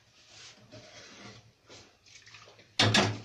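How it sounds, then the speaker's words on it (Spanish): A little water poured into a cooking pot over the fire while making pork in morita chile sauce, a short loud splashing pour near the end after quieter stirring and cooking sounds. "Voy a poner un poquito de agua"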